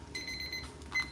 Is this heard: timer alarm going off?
yes